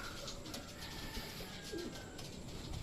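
Soft cooing of racing pigeons rises from a steady outdoor wash of background noise, faint and intermittent, with no voices present.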